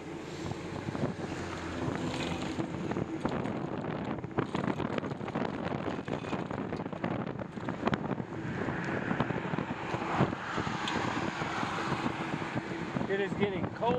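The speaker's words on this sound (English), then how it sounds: "It is getting cold and it is windy." Wind roars steadily and loudly across the microphone on a cold, windy bicycle ride, with no break for the whole stretch.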